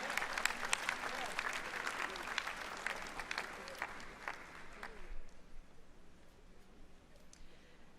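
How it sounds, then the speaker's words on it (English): A crowd at a university investiture ceremony applauds special guests. Crisp, bright clapping runs for about five seconds, then thins and fades into quiet room murmur. "a round of applause for our special guests"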